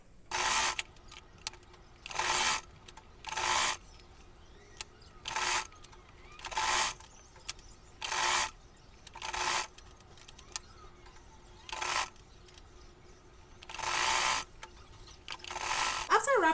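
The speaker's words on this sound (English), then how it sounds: "And I'm going to sew." A sewing machine stitches a crossbody sling bag in a series of short, regular bursts of close, bright whirring, evenly spaced with brief pauses between them.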